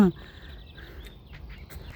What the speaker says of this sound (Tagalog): Tapos may mga ibon pa, oh.